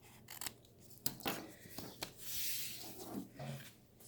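Scissors trimming excess paper on a double-sided tag with six pockets, several quiet close snips and slicing cuts, faint and intermittent with no talk.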